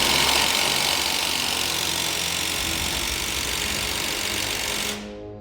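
Impact wrench at full strength hammering on a rusty pitman arm bolt, a loud continuous rattling burst lasting about five seconds before cutting off abruptly into a fading whine.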